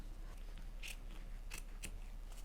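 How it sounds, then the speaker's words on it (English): Scissors snip through craft felt at close range, giving three or four crisp, separate cuts over a quiet low hum. "So I'm just going to cut the felt about the right size,"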